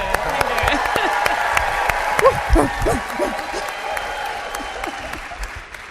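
An audience applauds a presidential master coordinator at a gathering, steady clapping running under a voice as he speaks over it.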